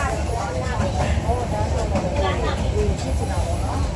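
A passenger train from Golden Rock to Yangon in Myanmar gives off a steady, rumbling clatter from inside the carriage, with people talking close by.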